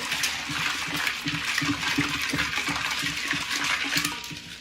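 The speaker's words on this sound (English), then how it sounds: "you stir that up and we're gonna put in 2 cups of sugar" A spoon stirs sugar into a gallon of sweet tea, giving a steady wet swishing with repeated soft clinks against the container, continuous and close throughout with no talking.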